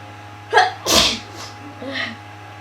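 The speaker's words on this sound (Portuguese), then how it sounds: "Eu tô espirrando muito." A person with a cold sneezes a few times in quick succession, each sneeze a sharp burst, close and fairly loud, with a quieter breathy one at the end.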